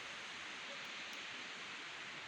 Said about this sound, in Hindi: पूरा पीछे से पानी आ रहा है।